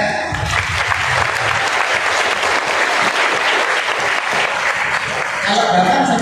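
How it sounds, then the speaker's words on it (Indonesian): Sustained applause from an audience at a gathering of students' parents at a Quran memorization boarding school in Kudus, a dense wash of clapping that holds steady and loud for about six seconds. "Tepuk tangan."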